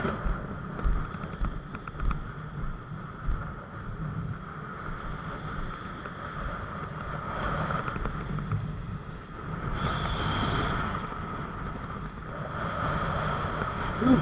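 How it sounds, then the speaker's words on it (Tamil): Steady wind roars and buffets against the microphone outdoors by the sea at Pamban railway bridge, a constant rushing noise with gusts swelling and easing throughout. "காற்று பயங்கரமாக அடிக்குது."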